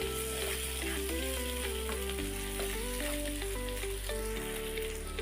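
Sliced onions sizzle in oil in a pan for kaju paneer curry, a steady hiss under prominent background music with melodic notes and a shifting bass line.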